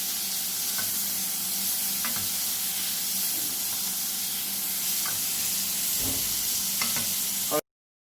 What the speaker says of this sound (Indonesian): Kita harus tetap menyirami dengan cairan lemak butter campuran herbs dan lain-lain ini ke dalam dagingnya